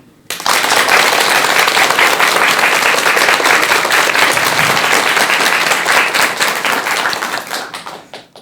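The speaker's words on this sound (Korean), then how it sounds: "여러분 큰 박수로 청하겠습니다" An audience at a lecture hall breaks into loud, sustained applause, a dense wash of many hands clapping steadily for several seconds before tapering off near the end.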